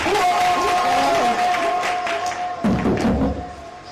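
A lively crowd at a Nigerian public forum claps and murmurs, a loud, dense mix of applause and voices with a steady tone running underneath and a few thuds near the end.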